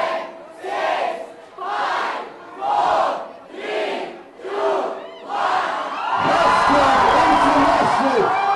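A massive college crowd at a media festival at Mithibai College roars in repeated rhythmic chants, five surging pulses of shouting voices, then breaks into a sustained, dense wall of loud cheering.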